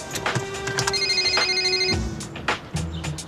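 A telephone rings with a bright electronic trill, one long ring and then shorter bursts, close and fairly loud, with a few background knocks and no talking.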